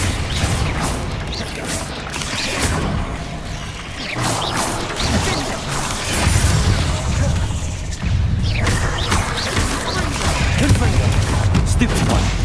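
Confringo blasting spells exploding in the video game Hogwarts Legacy, a dense run of booms, crashes and impacts over busy game effects and music, steady and loud throughout.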